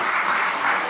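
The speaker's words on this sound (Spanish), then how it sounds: "A ver, un aplauso." Dense steady applause from a live audience at a beer-tasting talk event, a continuous wash of clapping at even loudness for about a second.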